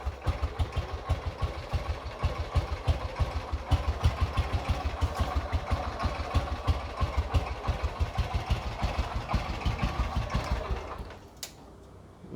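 A Bullet Machismo 500 motorcycle with the AVL engine idles close by, its loose tappets giving a steady, regular thumping beat with clattery mechanical ticking, easing off near the end.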